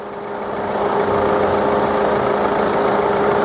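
A Mercedes-Benz C220 CDI W204 diesel engine idling, a steady, even rumble that holds without change throughout, close by.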